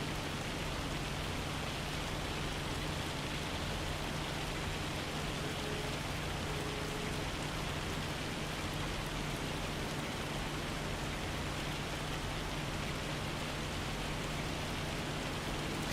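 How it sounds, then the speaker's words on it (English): Steady, hissing rain pours down in a Scottish setting in the farming video game Farming Simulator 25, a dense, unbroken wash of heavy drops on surfaces that stays constant and fairly quiet throughout, with no voices. "I can tell we're in Scotland because the rain sounds so angry"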